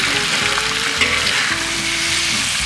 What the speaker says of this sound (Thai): ผัดแรงๆค่ะเขย่ากระทะด้วยค่ะ